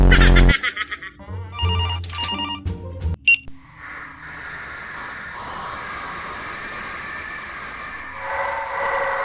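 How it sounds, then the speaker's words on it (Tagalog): Telephone ringing in the Graveyard Shift horror game, heard as a short run of bright bell bursts in the opening seconds, then giving way to a steady ambient hum. "Doon, may tumatawag, pre, yun."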